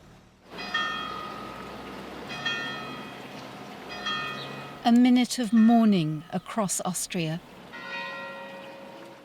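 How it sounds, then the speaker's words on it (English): Church bells in Graz, Austria toll in mourning for school shooting victims with long, sustained tolls, pausing while a person speaks, then resume ringing afterward. "Church bells rang out for the victims of the school shooting in Graz"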